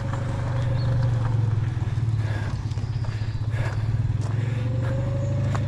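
A Citroën 2CV with a blowing exhaust idles nearby, a steady low putter with rapid rhythmic puffing and light clattering throughout, no talking.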